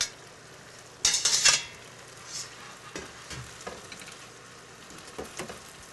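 Cooked pasta is stirred into a hearty tomato sauce in a sizzling pan, a loud wet scrape at first, then quieter bubbling and occasional utensil clinks against the pan.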